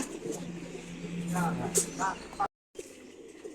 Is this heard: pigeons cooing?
yes